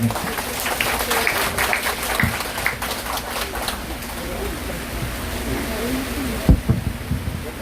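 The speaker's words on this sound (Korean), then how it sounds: "여러분 큰 박수 주십시오" Scattered clapping from an audience at a speech event, fairly soft and uneven, with some background murmur and a few sharper claps near the end.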